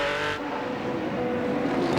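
A Formula Holden race car at speed on a track roars past with a loud, sustained engine note. The pitch shifts as it goes by and continues at full throttle.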